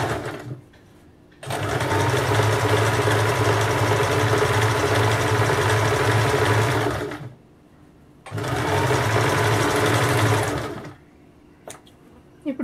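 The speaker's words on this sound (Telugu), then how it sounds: "సేమ్ ఇక్కడ వీ దగ్గర ఒకసారి నీడిల్ని ప్రెషర్ ఫుట్ని లిఫ్ట్ చేసి తిప్పుకొని వేసుకోండి కుట్టు." Sewing machine stitching a simple pattern blouse: two long steady runs of fast, even mechanical whirring and needle chatter, separated by short pauses, close and loud with no talk.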